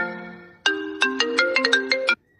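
A mobile phone rings at full volume from its play-sound locate option despite silent mode: a melodic electronic ringtone of about ten quick, bright tones, loud and close, following a faint sustained tone.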